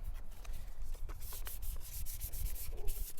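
Hand sanding of a Sega Mega Drive 2 plastic case with sandpaper, a continuous close scratchy rubbing with rhythmic back-and-forth strokes and no talking.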